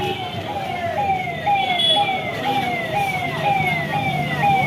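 A wailing ambulance siren sweeps up and down repeatedly, loud and close, over traffic rumble.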